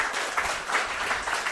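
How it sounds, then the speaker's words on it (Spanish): An audience applauds during a special broadcast from La Gomera, a dense, steady wash of clapping at moderate volume that carries through the whole short stretch without speech. "Un aplauso para él."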